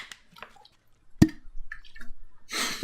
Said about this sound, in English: my water bottle does like a pop sound